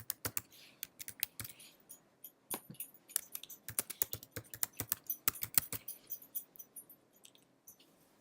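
Rapid, uneven clatter of keystrokes on a computer keyboard as a username and password are typed, with bursts of clicks and short pauses, close and fairly quiet with no voices.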